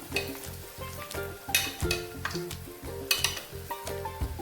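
Achappam, the crisp rosette cookie, frying in hot oil in a home kitchen, a steady close sizzle with rhythmic bubbling, brief clinks and scrapes of a utensil stirring or turning, with no talking.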